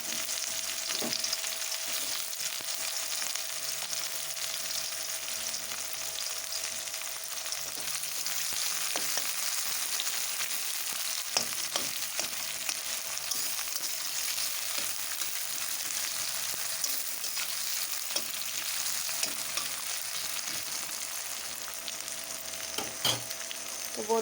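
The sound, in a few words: chopped onions frying in oil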